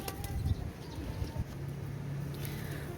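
Pakistani Sialkoti and 35 pigeons, young birds, heard with soft low cooing pulses in the first second and a half, then a faint steady murmur, close but quiet.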